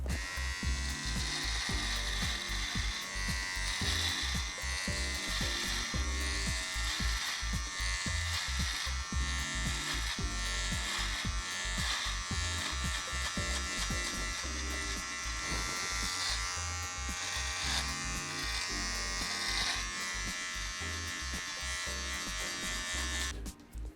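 An electric beard trimmer set to a 6 mm guard cuts through a beard at close range, a steady loud buzz running the whole time with small rhythmic changes as it moves across the face, and no talking.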